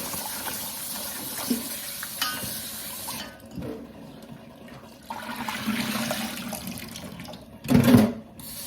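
Water runs and splashes steadily from a tap, easing off for a moment before gushing again, ending with a louder splash; no one speaks.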